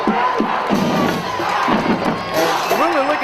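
Football crowd cheering at a packed high school home opener at night, Riverview Rams against Palmetto Tigers: a dense, steady roar of many voices with shouts, whoops and a few whistles throughout, distant and continuous.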